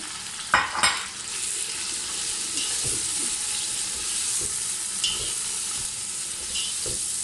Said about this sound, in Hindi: और अब इसमें मैं डालूँगी चने।